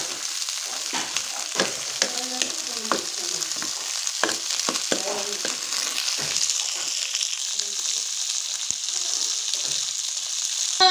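Green peas and eggs roast in a kadhai, giving a continuous hiss of frying broken by repeated scraping strokes of stirring, heard up close.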